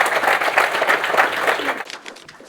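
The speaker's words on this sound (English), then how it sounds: "let's have another big round of applause for our 3 panelists" An audience at an engineering lecture event applauds the panelists, dense steady clapping that fades out near the end.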